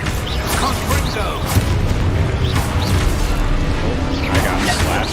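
Booming blasts and crashing bursts of Confringo spell explosions in a video game, repeated over dense game noise while a voice shouts.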